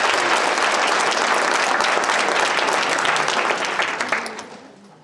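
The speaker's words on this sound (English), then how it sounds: "Give yourselves a super round of applause." A large conference audience at an opening session applauds loudly, with dense sustained clapping that holds steady before tapering off to scattered claps.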